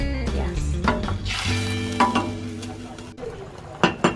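Creamy chicken sopas bubbling and sizzling as it boils in a pot, close by, with a steady simmer broken by a few clinks and knocks of stirring.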